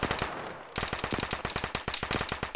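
Automatic gunfire rattles in a video game firefight, a brief hiss then a long run of rapid, loud, evenly spaced shots close by, with no talk.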